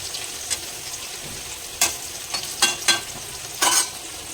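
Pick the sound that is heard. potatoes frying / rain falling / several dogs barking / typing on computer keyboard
potatoes frying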